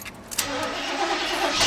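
GMC truck with a 305 V8 cranking as it tries to start, a steady churning engine noise running close and loud through the whole moment.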